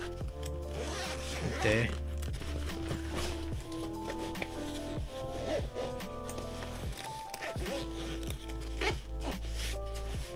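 Zip on an expandable laptop backpack being run around the bag, long continuous zipping strokes with short pauses and handling noise, close and clear, with a brief spoken word.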